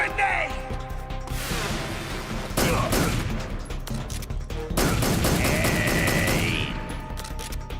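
Sustained gunfire rattles in the video game Snake Eater, with dense bursts of shots and crashing impacts, punctuated by short pauses and a rising whistling tone.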